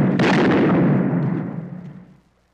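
A single loud gunshot booms and its heavy echo rolls away and fades over two seconds, alone with no voices.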